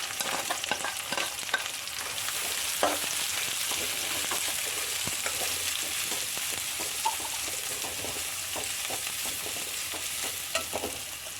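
Two sliced onions fry in a pan for Kerala-style kadala curry, a soft continuous sizzle broken by scattered stirring scrapes and clicks, moderately close and with no talking.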